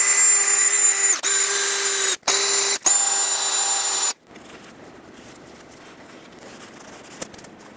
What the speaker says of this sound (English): I'm going to clean this up with a very fine sanding disc.